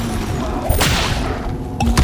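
An Expelliarmus spell is cast in Hogwarts Legacy, heard as a sharp burst with a bright whoosh under steady game rumble, then a second quick impact near the end.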